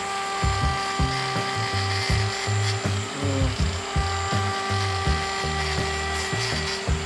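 An angle grinder trims a sheep's hoof, whining in steady bursts that start, stop and shift in pitch as it moves around the hoof, loud and close throughout.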